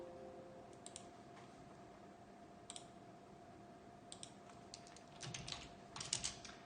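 Sparse keyboard typing in short clustered bursts of clicks, a few quick keystrokes at a time with pauses between, moderately close over a steady low electrical hum, with a denser flurry of keys near the end.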